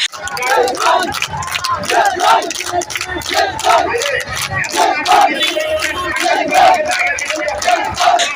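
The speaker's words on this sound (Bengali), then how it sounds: "যুবদল নেতা আবু সাইদ রিপন চৌধুরীর নেতৃত্বে যাওয়া নেতাকর্মীদের স্লোগানে স্লোগানে মুখরিত হয় রাজপথ" Party activists in a street procession chant slogans together, a loud, continuous crowd roar of rhythmic shouted voices rising and falling close by for the whole stretch.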